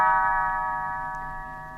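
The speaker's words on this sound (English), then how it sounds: "You will know it is time to turn the page when Tinker Bell rings her little bells" A single chime of small bells signalling a page turn in a read-along storybook, ringing clearly and decaying slowly with sustained bright tones.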